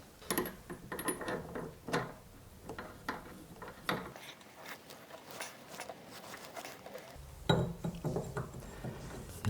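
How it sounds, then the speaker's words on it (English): A locking nut is fitted onto a kitchen tap set into the wall, giving irregular metallic clinks, taps and ratcheting clicks close by, spread through the clip with quieter gaps. "Now we put on the locking nut."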